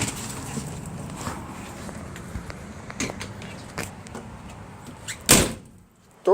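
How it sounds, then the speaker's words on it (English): A 1958 Edsel Corsair's car door slams shut once, a sharp broadband thump standing out from low background noise, followed by a brief quiet. "Door closes all right though."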